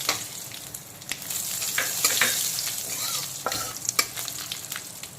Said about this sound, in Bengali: এখন দিয়ে দিচ্ছি তেজপাতা আর কালো জিরে ফোড়ন